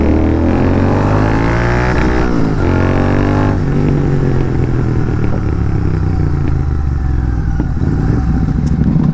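A Royal Enfield GT 650 motorcycle with an aftermarket exhaust riding at night, a loud close engine drone that revs up through gear changes in the first seconds, then settles into a steady, throaty cruise.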